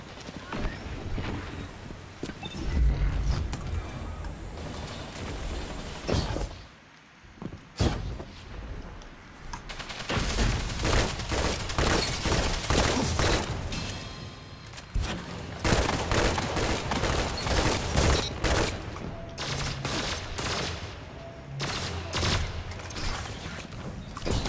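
Gunfire in a Destiny 2 Crucible Iron Banner match on PC comes in several bursts of rapid, loud shots separated by quieter game noise and brief lulls, with no talking.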